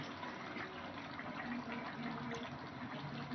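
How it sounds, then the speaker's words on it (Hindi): Water pours steadily into a fish curry masala frying in a pot, giving a continuous close gushing splash for a few seconds with no talk. "अब मैं इसमें पानी डालूंगी।"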